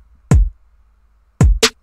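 A drum pattern for a chill pop track plays a kick-and-snare hit, then a short gap, then another kick-and-snare hit followed quickly by a second, different snare, each hit punchy, close and dry.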